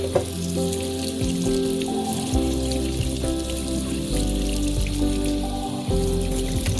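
A water-based paint brush rinsed under a running tap, a steady splashing, hissing stream of water, close and continuous, with no talking.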